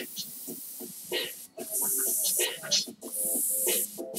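An airbrush compressor runs while painting a football player portrait, giving off a steady close hiss broken by two short pauses, with faint voices underneath.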